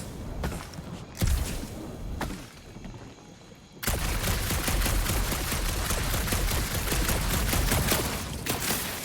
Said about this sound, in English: You know that aimless shooting isn't gonna scare the monsters away, right?